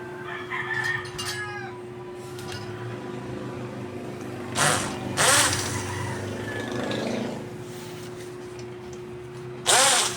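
An electric screwdriver or drill gives short whirring bursts while removing small screws from the PCB of an IGBT inverter welding machine. A rooster crows and clucks in the background throughout.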